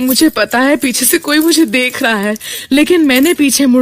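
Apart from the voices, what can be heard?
No distinct noise like a dog, phone or traffic.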